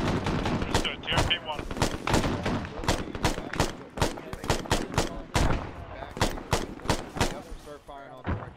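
Mortar and gunfire in the Arma military video game: a dense run of sharp, loud shots and bursts, some in rapid strings, continuing throughout with brief gaps.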